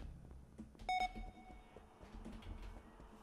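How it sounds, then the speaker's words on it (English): Electronic beeping from the video game Among Us, a short cluster of bright tonal bleeps near the middle over quiet background game sounds. "Beep beep."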